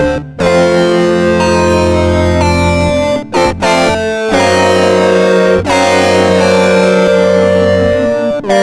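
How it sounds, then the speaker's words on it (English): Ed Myrol digital synth VST plays a harsh, bright hard-sync patch in loud sustained chords with sharp cuts and restarts, a gritty, distorted, horn-like tone heard alone. "Achieves a fairly unique hard sync sound."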